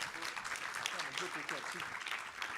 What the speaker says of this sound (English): Let us give another round of applause for our speakers.